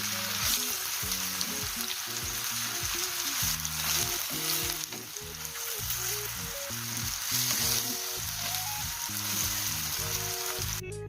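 Steady sizzling of chicken liver frying in a hot pan, close and continuous, with rhythmic music playing underneath throughout.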